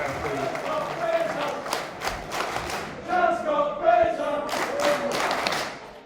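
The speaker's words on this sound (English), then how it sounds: "Another round of applause there" Audience at a convention opening ceremony clapping and cheering, a dense crowd applause swelling midway with a few shouts, while a voice talks over it.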